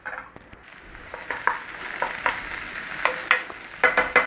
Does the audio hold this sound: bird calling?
no